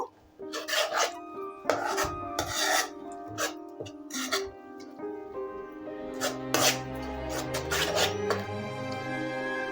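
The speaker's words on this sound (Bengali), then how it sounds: "এবার এটা কিছুক্ষণের জন্য সুন্দরভাবে কষিয়ে নেব।" Gravy being stir-fried for malai matar in a pan: repeated scraping and rasping strokes of a spatula against the metal, uneven in rhythm, close and fairly loud with no talk.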